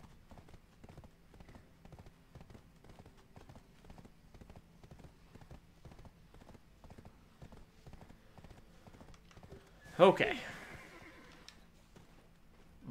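A horse in the video game Black Desert Online trots with a steady, rhythmic clip-clop of hooves, then lets out a loud, close neigh near the end; a voice briefly speaks.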